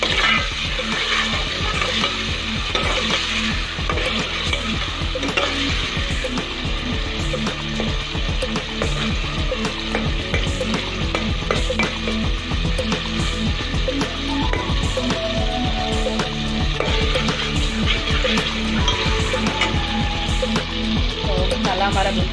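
Spices and rice for potli pulao fry in a pan, a dense, continuous sizzle with a constant stirring and scraping rhythm that stays loud and close for the whole stretch, with no talking.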